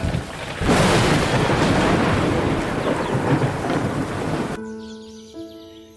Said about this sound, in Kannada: ಮರುದಿನ ಮಳೆ ಇನ್ನೂ ಜೋರಾಗಿ ಸುರಿಯುತ್ತಿದೆ